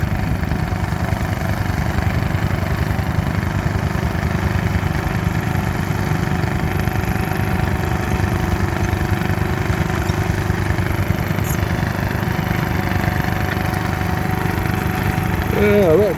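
A Drayton crawler tractor pulling a plough through stony ground at a plough day, its engine a steady, fairly quiet low rumble with a muffled exhaust, running continuously with faint speech in the background.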